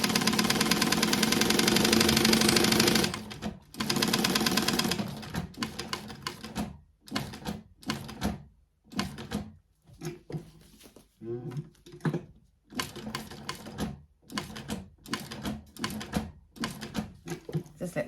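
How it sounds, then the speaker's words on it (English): A sewing machine stitches a bag, whirring in a fast, dense burst for the first few seconds, then running in short, choppy spurts separated by pauses. "Just let my machine do the talking for a little bit."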